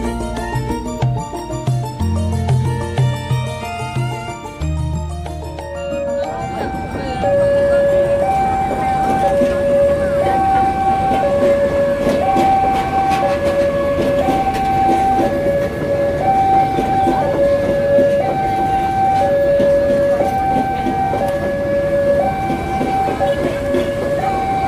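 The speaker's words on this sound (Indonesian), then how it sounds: "saat ini kita berada di pintu perlintasan kereta api Tetek Stasiun Yogyakarta" At night, a train rumbles through the Tetek railway level crossing by Yogyakarta station as the crossing signal chimes in a steady repeating two-tone pattern, loud and close over the clatter of the passing cars.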